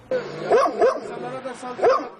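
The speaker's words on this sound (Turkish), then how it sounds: "Şu anda işte bulunduğumuz yerde tam 3 tane köpek var." Stray dogs barking at a bus stop in Göktürk, three close, sharp barks spaced over about two seconds with some whimpering tone, heard alone without talk.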